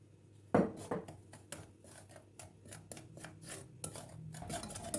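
A spoon stirs cocoa powder and starch in a bowl, making a quick series of close, light scraping and clinking taps on the dish with an uneven rhythm and no talk.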